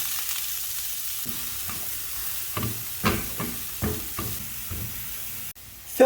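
Onion fries in butter in a pan with a steady close sizzle, and a utensil stirs it in repeated soft scraping strokes; the sound cuts off abruptly near the end.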